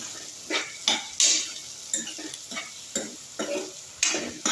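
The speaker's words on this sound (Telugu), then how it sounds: "ఆనియన్స్ ఫ్రై చేస్తున్నాం ఆనియన్స్ ఫ్రై చేస్తున్నాం" Onions fry in a pan under a rhythmic series of sharp spatula scrapes and metallic clatters, about a dozen irregular strokes over a soft sizzle, close and fairly loud with no voices.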